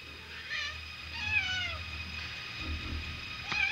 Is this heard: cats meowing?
yes